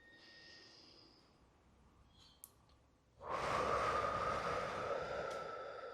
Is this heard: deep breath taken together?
yes